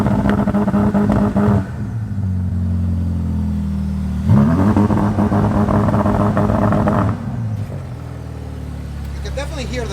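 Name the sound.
710 HP Ferrari engine with valves opening in launch control mode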